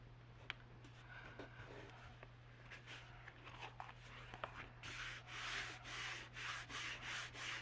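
Craft material for a refillable notepad holder being rubbed down firmly by hand, a soft scraping friction that turns into louder, rhythmic strokes in the second half, close and alone.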